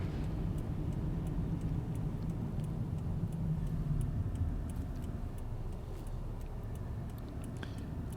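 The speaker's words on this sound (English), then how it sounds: "I'm going to drive real slow, like I said." A car drives slowly through town after a snowstorm in Norwich, Connecticut, a steady low road and engine rumble with tyre noise heard from inside, continuous and moderately loud with no talk.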